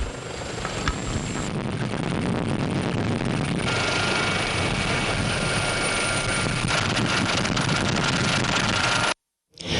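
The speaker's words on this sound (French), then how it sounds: "hélicoptères bombardiers d'eau" Water-bombing helicopters working on forest fires give a loud, continuous rotor and engine drone that holds steady, shifts in texture partway through and then cuts off abruptly near the end.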